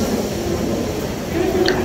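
Low rumbling of the moving Howrah–Bikaner Express (22307) with a steady rolling drone and a faint squeal near the end.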